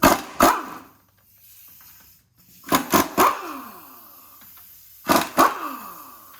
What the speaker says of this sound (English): Dog's playing over there.